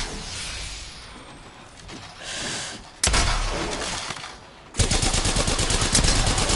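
Peacekeeper shotgun fire in a first-person shooter, heard as loud sharp blasts that crack in suddenly, the last one leading into a dense, sustained burst of fire and impact noise.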